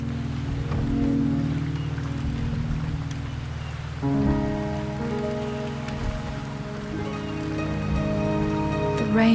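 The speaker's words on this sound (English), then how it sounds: "The rain is subsiding, and the sky will soon clear." Rain falls steadily in the video game Wuthering Waves, a continuous wash of close patter. A sustained tonal music layer enters partway through and plays beneath it.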